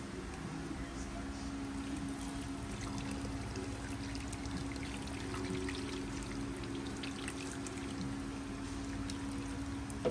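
Sauce pours over brisket in a Dutch oven, a steady liquid trickle and splash at close range against a constant background hum.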